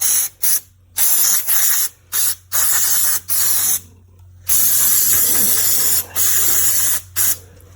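An aerosol can of brake cleaner sprays in repeated loud hissing bursts, some short and some a second or more long, separated by brief pauses, close up with no talking.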